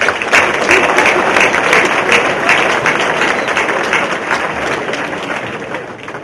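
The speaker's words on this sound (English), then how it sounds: "give yourselves and each other a big round of applause for being here" Sustained applause from a conference audience at a sportsmanship event, dense steady clapping filling the room at a loud, even level throughout with no talking.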